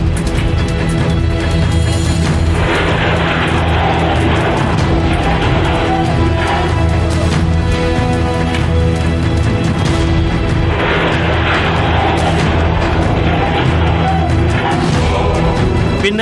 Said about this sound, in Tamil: அவ்வழியாக வந்த தனியார் பேருந்து ஒன்று கட்டுப்பாட்டை இழந்து நீண்ட தூரம் சறுக்கியபடி வந்தது